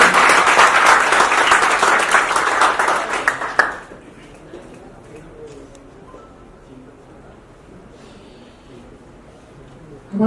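Loud, dense audience applause at a Bhojpuri star's event, a thick roar of many hands that stops abruptly, followed by a quiet room with faint background sounds.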